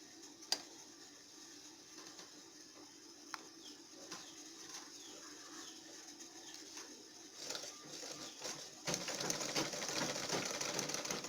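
A sewing machine stitches a seam on a long pencil skirt with a back pleat, a quiet steady mechanical whir that grows louder and denser toward the end.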